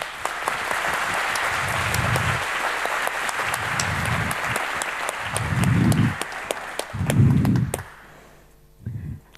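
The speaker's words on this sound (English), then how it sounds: "would you please give her a nice round of applause for joining us" A conference audience at a hacker camp applauds steadily, dense clapping lasting most of the clip and swelling near the end before stopping, followed by a short final burst.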